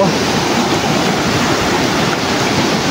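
Sea waves at night wash in a loud, unbroken roar of surf, a dense steady rush of water without pauses and no talking.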